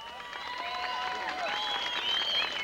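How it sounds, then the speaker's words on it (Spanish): Crowd applause at a jaripeo bull-riding event, steady and fairly loud throughout, with whistles and cheers mixed in and voices audible over the clapping. "el aplauso fuerte"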